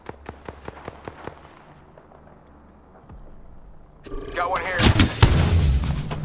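Gunfire in the shooter game Apex Legends: a quick string of sharp, evenly spaced shots, a quieter lull, then a louder, chaotic burst of firing and impacts. Someone speaks briefly.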